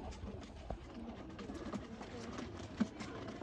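A male Kasuri pigeon coos softly in a quiet setting, a few low, faint murmuring calls with one slightly stronger note near the end.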